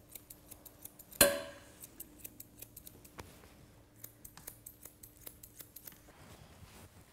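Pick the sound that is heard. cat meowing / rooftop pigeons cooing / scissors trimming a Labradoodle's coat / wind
scissors trimming a Labradoodle's coat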